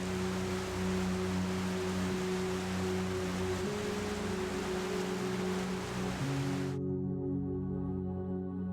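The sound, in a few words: roar of Niagara Falls waterfall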